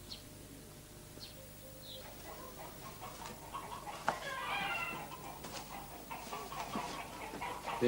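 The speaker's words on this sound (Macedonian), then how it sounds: "Елвис, ајде да ти покажам кокошките." Backyard chickens cluck and murmur at low volume. A sharper rustle cuts in midway, and a busier, noisier stretch follows.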